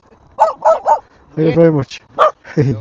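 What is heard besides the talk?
dog barking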